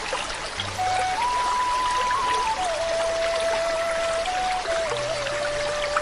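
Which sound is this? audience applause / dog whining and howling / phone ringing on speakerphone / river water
river water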